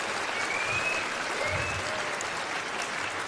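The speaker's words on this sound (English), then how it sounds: "Can we hear another round of applause for incredible panelists on stage here?" The crowd applauds panelists on stage at TennoCon 2024, a gaming convention. Steady, full applause fills the room throughout, with a few faint whistles rising above the clapping.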